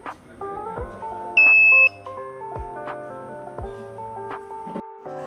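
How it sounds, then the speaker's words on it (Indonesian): One short, high electronic beep from a microcontroller buzzer in an RFID ID-card reader sounds clearly over soft background music. "Tunggu hingga buzzer berbunyi dan LED menyala."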